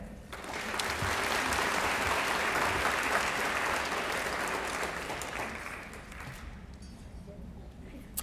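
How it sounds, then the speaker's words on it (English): A school awards ceremony audience gives a dense, sustained round of applause for honoured high school students, swelling quickly, holding steady, then tapering off near the end. "If I could go ahead and have a round of applause for that group."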